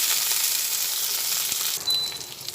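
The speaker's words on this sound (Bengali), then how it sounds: "টমেটোটা একসঙ্গে ভেজে নিচ্ছি" Chopped tomato frying with onion and garlic in a pan for begun bharta, a hissing crackle that holds steady then dips briefly before resuming, with a faint spoon tap, close and alone.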